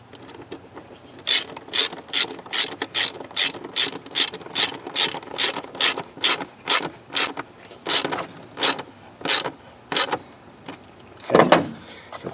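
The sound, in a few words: tightening down a clamp on Ford Explorer air intake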